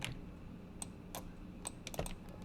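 A computer keyboard gives soft, close clicks as keys are pressed, including the Alt key, with a few scattered taps against a quiet room background.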